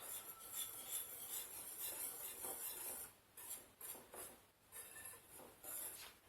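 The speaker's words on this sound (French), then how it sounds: "avec un fouet, je viens mélanger le tout" Dry ingredients for a dairy-free, egg-free raisin brioche are whisked together in a bowl, giving a steady scratchy rasp and rub with uneven strokes and short pauses. The sound is close and alone, with no talking.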